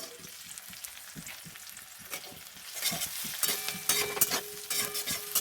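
Chopped onions, salted, sizzle and fry in a pan for a potato and papaya curry with moong dal, the crackle growing louder and busier toward the end, with stirring. No one speaks.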